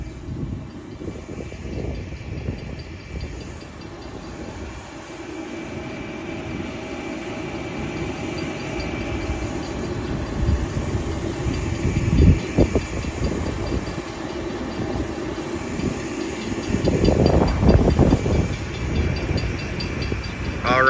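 A Long Island Rail Road M9 electric train passes through Wyandanch Station, a steady rumble and hiss building over about twenty seconds and swelling loudest near the end, with no talk over it.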